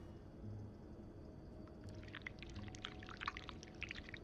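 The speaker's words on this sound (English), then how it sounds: "To start, we need to pour the wax from the pot." Thick wax poured from a pot in the video game This Bed We Made, a soft, close liquid gurgle with small wet splashes building toward the end over a quiet background hum.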